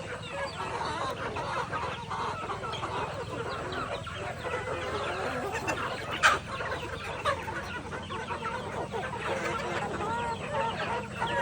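Chickens on a farm cluck and murmur continuously at moderate distance, a dense overlapping flock chatter with one brief louder call standing out.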